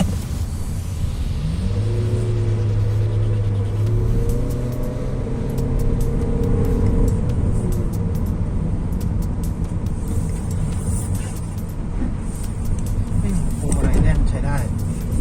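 A new MG5 car driving on a track gives a steady engine drone with rising revs and road rumble, running beneath continuous talk throughout.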